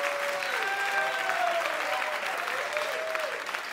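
Comedy club crowd applauding a stand-up comic, steady sustained clapping under faint tonal sounds.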